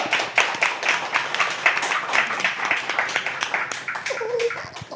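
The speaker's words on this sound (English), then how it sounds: "Round of applause." An audience at a talk show applauds, a dense, continuous patter of many hands clapping at close range for several seconds, with scattered louder claps and a brief voice near the end.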